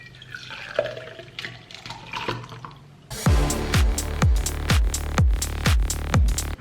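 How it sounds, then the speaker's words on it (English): Water from a kettle poured into a thermos. Soft handling sounds come first, then a loud steady pour with gurgling pulses as the flask fills, close by and with no talking. "I brought some water from the kettle."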